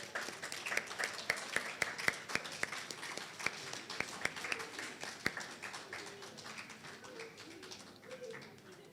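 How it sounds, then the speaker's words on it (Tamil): Scattered audience applause at a Tamil association event in Bahrain, irregular claps spread through the room alongside ongoing talk. "நாம் அனைவரும் இந்த தருணத்தில் பலத்த கரகோஷங்களை எழுப்பிவிடலாம்"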